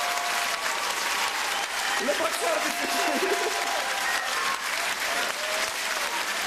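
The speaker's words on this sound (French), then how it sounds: "On l'applaudit, mesdames et messieurs" A live comedy show audience applauds steadily for a boxer on stage, sustained clapping with some crowd noise while a host talks over it in French.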